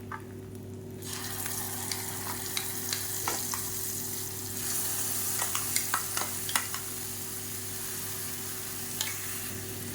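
Fenugreek, curry leaves, asafoetida and ground paste frying in a pan, a steady close sizzle that starts abruptly after a quiet second, with scattered pops and spatters over a low constant hum.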